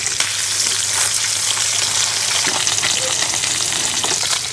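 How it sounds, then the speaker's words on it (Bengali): Tilapia pieces fry in hot oil in a pan, giving off a loud, constant, close-up crackling sizzle that holds steady the whole time with no talking. "তো মাছগুলো আমার ভাজা হয়ে গেছে"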